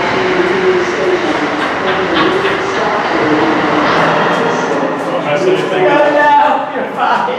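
An Amtrak high-speed train, hauled by a P156 locomotive, rushes through BWI railroad station: a steady, loud roar of rail noise with rumbling wheels, heard close and continuous, while people talk over it.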